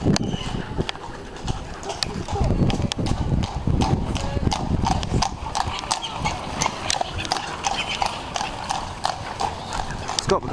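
Steady hooves clip-clop on a hard road in Bruges, Belgium, several horses walking close by, with people talking faintly in the background.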